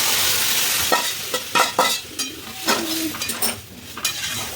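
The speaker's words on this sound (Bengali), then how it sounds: "এবার আমি এই যে সেদ্ধ ডালটা দিয়ে দিচ্ছি এর মধ্যে।" Boiled dal is stirred into a pan of frying masala, with scraping spoon strokes against the pot and a soft sizzle underneath, close by and intermittent, with no talking.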